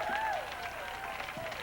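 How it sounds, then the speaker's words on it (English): A park crowd at the 2000 Pepper Fest coronation claps in a brief outdoor patter of applause, with a voice talking over it and a high whistle-like tone sliding across the start. "Most clapping ever from over in that corner of the park this year."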